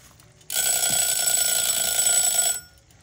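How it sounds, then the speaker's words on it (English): Kitchen timer alarm going off while caramel popcorn is cooked on a stove: a shrill continuous electronic ringing starts abruptly, holds steady and loud for about two seconds, then stops, with no talk. "now that the timer went, I'm going to turn my burner off"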